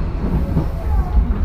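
Inside a Tobu 10080 series electric train, car MoHa 12480, running between Kasukabe and Tobu-Dobutsu-Koen: a loud, steady low rumble of wheels and motor with faint rhythmic clatter and a light hiss.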